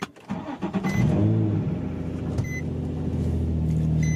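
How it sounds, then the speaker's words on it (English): A car fitted with an aftermarket exhaust cranks briefly and fires up, then settles into a loud, steady idle rumble. It is heard close and alone, with no talk. "But I put an exhaust on it, and I'll go ahead and start it up for you guys."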